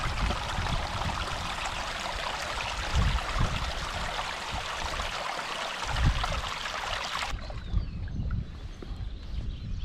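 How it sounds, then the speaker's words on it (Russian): A small stream babbles near the right bank of a river in Perm Krai, a steady close wash of water that stays constant and fairly loud. "Напротив него на правом берегу послышалось журчание небольшого ручья."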